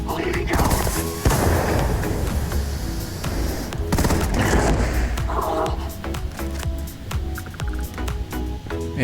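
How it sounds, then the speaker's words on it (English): Pistol fire from the Acid Rain weapon in Starfield, a string of sharp shots and louder bursts amid dense game noise, with someone talking over parts of it. "Shooting you with a pistol."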